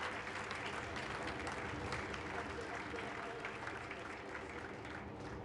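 Steady audience applause for someone taking the stage, a dense even wash of clapping heard alone at moderate distance for several seconds.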